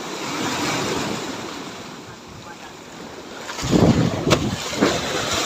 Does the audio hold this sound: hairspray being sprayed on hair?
no